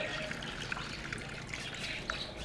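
Water running from a tap on a small bird farm, a continuous light trickle and splash with a steady hiss, close by and alone with no talk.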